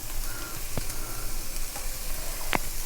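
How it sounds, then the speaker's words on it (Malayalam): Onions and coriander leaves sauté in a pan for a chicken roll filling, giving a steady close sizzle with a couple of brief clinks from stirring. "ഇതിപ്പോൾ ഒന്ന് ചെറുതായിട്ട് വഴന്ന് വരുന്നുണ്ട്."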